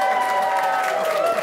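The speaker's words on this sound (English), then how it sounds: "Give her a round of applause" Studio audience applauding a lottery winner who has just taken 25,000 euro on a televised draw, a dense, steady burst of clapping with some crowd noise throughout, held at an even level.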